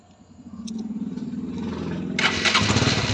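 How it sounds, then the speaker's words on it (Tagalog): A motorcycle engine cranks with a rising chugging starter rhythm for about two seconds, then catches and settles into a loud, close, steady idle. "Startin natin yung motor."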